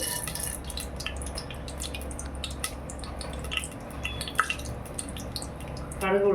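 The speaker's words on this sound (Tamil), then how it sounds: "நல்லா பொரியட்டும். நல்லா பொரிஞ்சு வந்திருக்கு." Mustard seeds and urad dal spluttering in hot oil for sambar, a dense run of crackling pops and sharp spits over a steady frying hiss, with a voice briefly at the end.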